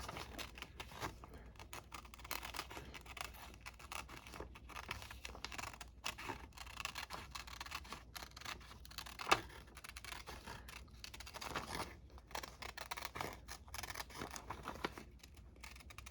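Scissors fussy-cutting a large image out of a magazine, a steady run of quiet, close snips and paper rustles over about sixteen seconds with no talking.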